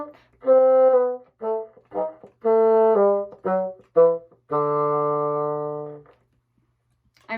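Tones from a bassoon play a short run of separated and connected eighth notes followed by a long held low note, clear and close in a quiet room.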